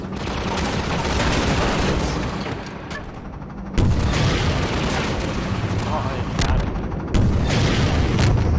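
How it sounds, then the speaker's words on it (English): Rocket launcher firing in a video game, loud booming blasts with dense broadband roar, one big hit near the middle and another late, over continuous battle noise. "So this rocket launcher is cool because it has a laser."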